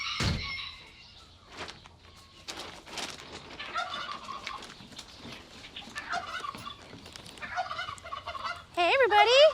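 Backyard chickens, one a one-footed hen, cluck and call at feeding time in a barnyard, with turkey-like gobbling mixed in; busy overlapping bird calls run throughout, growing louder and shriller near the end.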